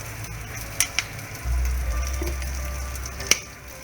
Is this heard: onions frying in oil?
yes